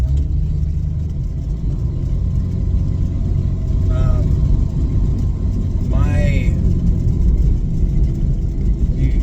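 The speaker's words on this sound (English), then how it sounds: "So I'm going to go ahead and drive this around a little bit." A Jeep XJ fitted with drilled and slotted brake rotors drives along with a steady, loud low engine rumble and road noise from inside the cab, while two brief squeaky rising tones rise above it.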